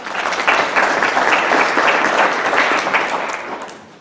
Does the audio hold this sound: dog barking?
no